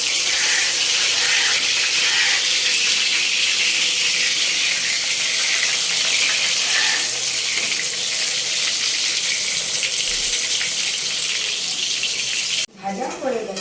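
Potatoes drop into hot oil with whole spices for a mutton dish, raising a loud, dense, continuous sizzle that holds steady close up before cutting off abruptly near the end.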